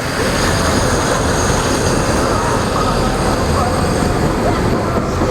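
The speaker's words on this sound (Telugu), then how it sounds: "అదిగోండి ఇప్పుడు ట్రైన్ అయితే ఎండ్ అవుతుంది" A train rumbles past loudly and continuously near a bridge, a dense roar of wheels on rails close by from start to finish.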